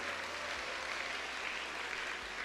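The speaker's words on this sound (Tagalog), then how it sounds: "Lakasan niyo yung palakpak niyo." Congregation applauding during a church service, a steady wash of clapping at moderate level that continues evenly without a clear build or break.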